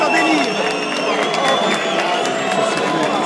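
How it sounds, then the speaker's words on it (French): A large, loud, frenzied crowd roars and cheers continuously with whoops and shouts, densely packed voices filling the space throughout. "la foule est hostile, la foule est en délire."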